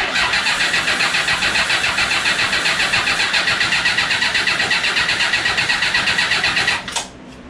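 750cc cross kart engine cranking and firing weakly with the ignition on: a fast, even, loud mechanical chug that holds for nearly seven seconds before cutting off abruptly.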